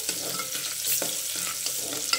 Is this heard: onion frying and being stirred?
yes